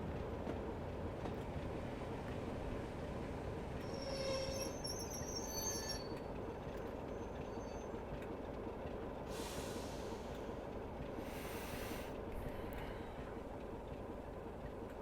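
Class 24 diesel train in Train Simulator Classic, Swanage scenario, pulling into a platform with a constant low rumble, high-pitched wheel squeals early on and brief hissing bursts later, with no voices.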